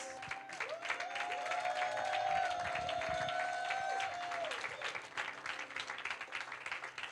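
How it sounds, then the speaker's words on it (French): A church congregation claps and cheers in sustained applause, with a sustained organ or keyboard chord ringing underneath and some voices mixed into the crowd noise. "Clap for Jesus."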